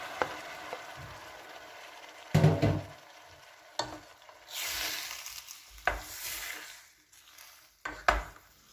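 Tomato pieces with onions and minced garlic cooking in a pan, a soft intermittent sizzle broken by several distinct clanks and scrapes of a utensil against the pan.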